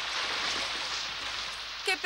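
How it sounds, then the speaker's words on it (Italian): Cartoon rain falls as a steady, even hiss of droplets, moderately loud and continuous, with a brief voice near the end. "Oh, oh, piove."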